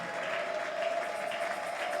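Worshippers in a church clapping and acclaiming the Lord, sustained even applause from a large crowd with a faint tonal hum underneath, heard at a moderate distance.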